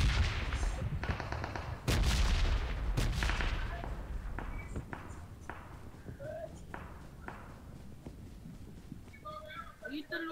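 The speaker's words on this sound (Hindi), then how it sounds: "समोर फायर झाला" Gunfire in PUBG Mobile: a few heavy shots and bursts early on give way to sparser, fainter shots spaced out over the following seconds, with people talking throughout.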